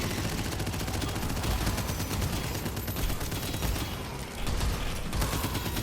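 Automated turrets fire continuously in a video game, a dense, unbroken stream of rapid mechanical gunfire that stays loud across the whole stretch, with only a brief dip before resuming.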